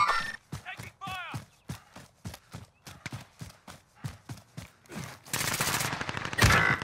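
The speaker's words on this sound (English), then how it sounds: "Taking fire!" Gunfire in the Warzone shooter game, a rhythmic series of sharp shots at steady intervals building into a denser, louder burst near the end, with voices shouting briefly over it.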